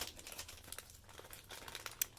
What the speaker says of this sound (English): I'll put it in this big black plastic bag here,